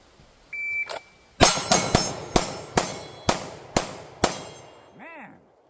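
Pistol gunshots in a speed shooting drill on steel targets: a start beep, then seven sharp, evenly spaced shots ringing out one after another, followed by a brief chirpy tone at the end.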